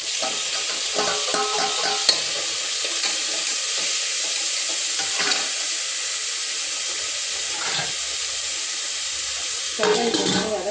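Tomatoes frying in a pan give a steady, close hissing sizzle, with occasional stirring scrapes and a louder burst of sizzle near the end.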